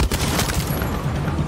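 Rapid overlapping gunfire in the video game Far Cry 6, a dense volley of shots coming from several directions at once, loud and continuous for the whole moment with no talk.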